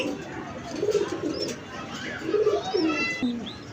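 Koka pigeons coo in low, throaty rolling phrases, two main bursts close by, with faint chirps of other birds and a distant background murmur.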